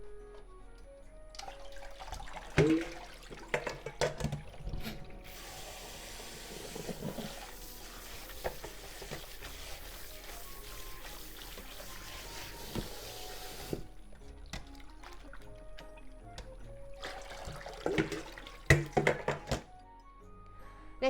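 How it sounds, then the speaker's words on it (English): Water runs from a kitchen tap as spinach is rinsed in changing water, a steady hiss broken by splashes, knocks and thunks of handling in the sink, moderately loud and close throughout. "Change the water several times to rinse off the acid."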